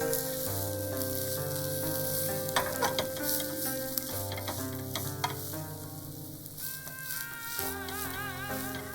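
Beaten eggs sizzle steadily in a pan as a Japanese tamagoyaki rolled omelette cooks, with faint scraping and a few light taps. Tonal music plays throughout and no one speaks.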